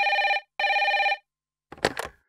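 A telephone bell rings in two long electronic trills with a short gap between, loud and close, followed by a brief clatter as the receiver is picked up.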